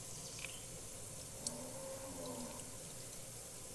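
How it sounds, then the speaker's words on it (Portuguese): Water pouring from a tap at a kitchen sink makes a faint, steady background rush with a couple of small clinks, heard alone. "Então, vou colocar água aqui. Que eu tô na minha pia, né?"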